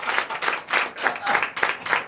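A church congregation claps in a steady, rhythmic beat, bursts of many hands coming roughly three times a second, fairly close and filling the room.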